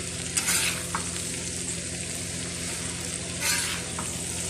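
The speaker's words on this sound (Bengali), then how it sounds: "অল্প একটু লবণ দিয়ে পটলটাকে বেজে নিচ্ছি নেড়ে ফেড়ে" Pointed gourd (potol) sizzles steadily in a pan with a pinch of salt, stirred with two brief louder scraping bursts near the start and end, no voices.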